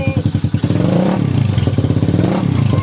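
A freshly rebuilt, still breaking-in carbureted Suzuki Raider 180cc motorcycle engine idles with a rapid, steady putter and then revs up and down in loud, close throttle blips.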